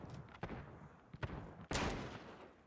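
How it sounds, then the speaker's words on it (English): Several revolver shots ring out in the Gunfight video game during a 2v2 LAN match, sharp separate cracks spaced unevenly, the last one loudest and followed by a fading tail. "Wow, so many revolver shots, but none of them landed"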